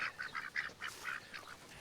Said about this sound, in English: It's because all the wild ducks.